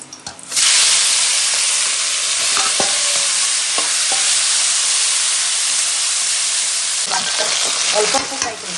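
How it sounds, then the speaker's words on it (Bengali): Tangra fish frying in a pan sends up a loud, continuous sizzle, with a few light stirring clicks and scrapes close by. "তার জন্য আমি মাছটাকে একটু ফ্রাই করে দিচ্ছি"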